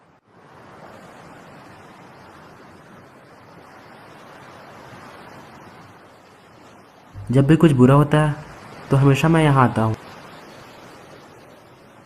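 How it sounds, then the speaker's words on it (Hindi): Steady broad wash of sea waves breaking on a shore, continuous and moderately loud, with people talking over it in the latter part. "अपनी आंखें बंद कर समुंदर की लहरों को सुनकर मुझे शांति मिलती है।"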